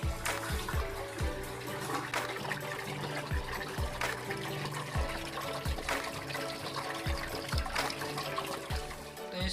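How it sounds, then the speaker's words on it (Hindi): Tap water runs steadily into a container, a continuous splashing trickle with rhythmic gurgles, quiet and close, with no talking. "देखो पानी आ रहा है, बेवकूफ़ नहीं बना रहा"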